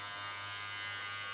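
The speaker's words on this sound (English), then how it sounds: "Clipper." An electric hair clipper buzzes steadily and close-up during a colorful trendy haircut, a continuous hum with no pauses throughout the short stretch.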